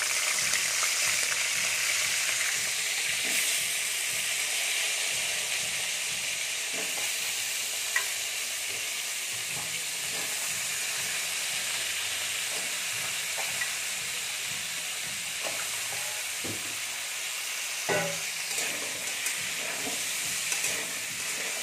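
Potatoes fry in hot oil in a village kitchen, a loud continuous sizzle and hiss lasting throughout with occasional faint clinks and stirring knocks.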